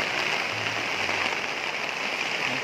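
Heavy rain pouring steadily during a pigeon race in Calbayog, Samar, a dense, continuous hiss of drops on surfaces with no letup and no voices.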